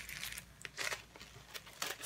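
A heavily taped beauty product package being unwrapped, with quick tearing and crinkling of tape and packaging in several short bursts, close and fairly soft.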